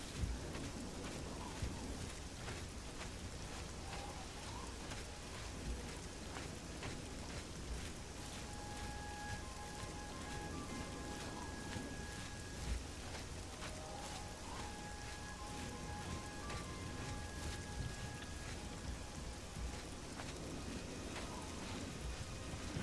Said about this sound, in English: Oh, and it's raining again.